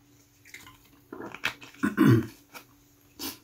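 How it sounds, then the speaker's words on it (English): A speaker pauses mid-address to take a drink of water, with short gulping and swallowing noises close to the microphone and a louder swallow near the middle, then a small clink. "You'll excuse me as I take a drink of water"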